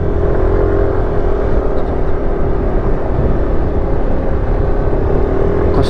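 A Yamaha NMAX scooter engine drones steadily with a constant whine during a test ride, accompanied by wind rush and road noise, loud and close with no talking.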